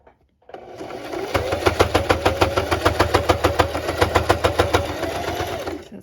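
A sewing machine stitches fabric for a homemade face mask, running in a fast, even rhythmic chatter with a low motor hum, starting after a brief pause and continuing steadily at close range.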